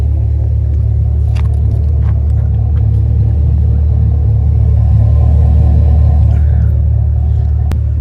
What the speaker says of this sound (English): So right there, the truck is running.